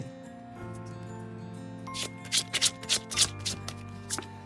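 Tarot cards being shuffled and drawn, a cluster of crisp flicks and snaps in the second half, each card slap sharp and close, following a steady humming background tone.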